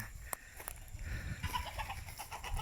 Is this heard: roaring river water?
no